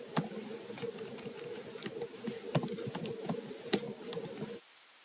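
Quick bursts of keystrokes on a computer keyboard while code is entered, sharp clicks with a few louder taps over a low hum, close up and alone, stopping abruptly near the end.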